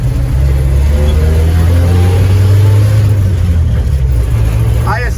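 An International Scout 80 engine runs at full throttle around 3,000 RPM, a loud, steady, low droning roar that stays constant for the whole stretch, with a voice faintly present underneath.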